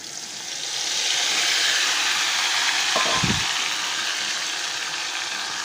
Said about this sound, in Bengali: একদম ছাকা তেলে আলুগুলো একদম ভেজে নিচ্ছি